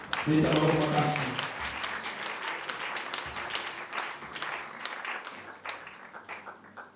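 A church congregation at a cell gathering applauds loudly, a burst of dense clapping that thins into scattered claps with voices and singing alongside.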